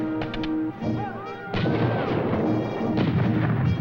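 Cannon fire at point-blank range near water in an American Revolutionary War battle: loud booming blasts and crashing impacts in a dense, continuous barrage, with a short whistling tone before the heaviest burst.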